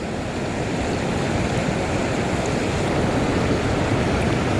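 Rushing river water at a waterfall on a trout stream, a loud continuous roaring wash that stays even throughout with no voices.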